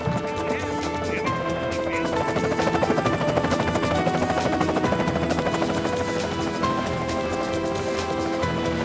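A helicopter flies overhead with a steady rotor chop and engine whine, accompanied by music and some background voices.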